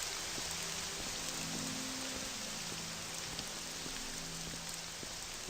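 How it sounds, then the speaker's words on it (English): Steady rain patters on surfaces across a video game landscape in The Elder Scrolls, forming a constant, even hiss with occasional droplet taps. "It looks like the rain is slowing down."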